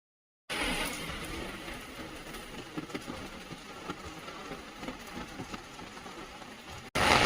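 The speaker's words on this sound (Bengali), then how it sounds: "দেখো ঘমঘমি বৃষ্টি শুরু হয়েছে মানে বেশ ভালো জোরে বৃষ্টি হচ্ছে" Heavy rain pours steadily outside near a station just after stepping off an auto-rickshaw, a dense continuous hiss with scattered close drops, loud and unbroken for several seconds with no talking.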